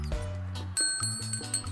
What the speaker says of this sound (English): one of the things I didn't mention was my bell